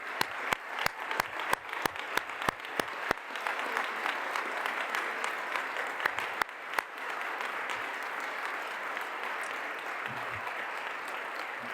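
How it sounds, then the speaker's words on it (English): A crowd applauds an astronaut at an announcement event, steady massed clapping with several sharp, close individual claps standing out near the start, sustained throughout with no talk over it. "So again, big round of applause"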